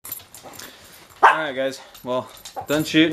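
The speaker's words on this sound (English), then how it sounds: "sorry about the dogs in the background" Dogs bark and whimper indoors, giving high yelping barks and whines that come in short bursts, while someone talks over them.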